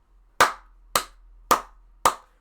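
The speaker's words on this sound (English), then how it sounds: "Round of applause, Nancy" Four slow, evenly spaced hand claps ring out close and alone, each a sharp single smack about half a second apart, like a lone person giving a mock round of applause.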